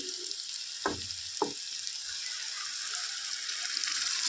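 Ginger, garlic and ground masala sizzle steadily in hot oil for a hotel-style matar kurma, a constant frying hiss with two brief clinks near the start.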